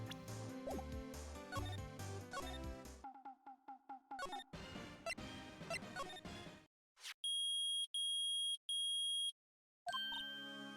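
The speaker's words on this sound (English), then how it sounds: "It's beeping. The metal detector's found something." A metal detector beeps in Phoenix Wright: Ace Attorney as a run of loud, repeated electronic tones pulsing in a regular rhythm, preceded by game music and chimes.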